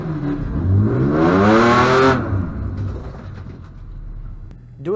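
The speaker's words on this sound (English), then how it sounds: "Before each run, I spin the tires a little bit to clean any debris off them." A BMW E46 spins its street tires before a drag-race run: the engine revs up sharply and rises in pitch for about two seconds, then drops away to a lower idle, loud and close.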